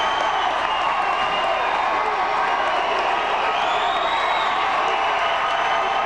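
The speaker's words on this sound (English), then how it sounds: "And the crowd goes wild." A loud, continuous roar of a high school boys' basketball crowd cheering and whooping with scattered applause after quick buckets in a gym, sustained and dense throughout.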